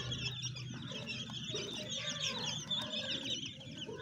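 Young Aseel fighter chicks, about 25 to 26 days old, cluck and peep continuously on a farm, a busy overlapping chorus of many birds close by.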